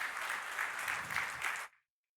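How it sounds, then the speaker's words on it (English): A panel audience at a high-level development conference gives a short round of clapping, a dense burst of hands lasting under two seconds before cutting off to silence. "can I ask you just to give the panel one round of applause"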